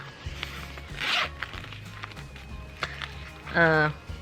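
A clear zipper pouch in a first aid kit is pulled open in a couple of quick, raspy strokes close by, with soft handling noises and a voice speaking in between.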